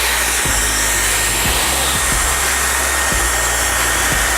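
A Dyson Supersonic hair dryer blows on its cool no-heat setting, a loud, steady, close airflow whoosh with faint low thumps as it moves around hair.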